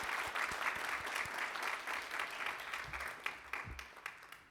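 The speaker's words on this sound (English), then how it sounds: "Can we give Jacob a round of applause," A room full of people at a community event on housing and homelessness gives a warm round of applause, steady dense clapping at moderate volume with a few low thumps underneath.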